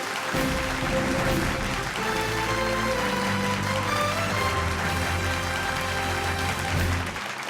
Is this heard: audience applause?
yes